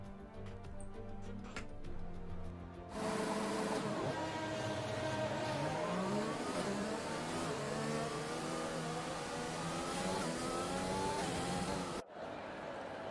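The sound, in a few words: F1 2020 video game cars on formation lap, Canada GP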